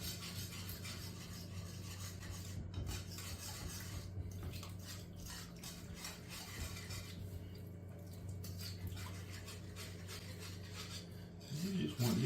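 Chicken stock being stirred into roux in a pot for Chicken a la King, heard as a steady soft scraping and sloshing of a utensil against the pot, continuous and close.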